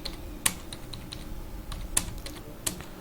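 Steady typing on a computer keyboard during a typing-test lesson exercise, with a continuous patter of soft keystrokes and a few sharper, louder key hits standing out, recorded close.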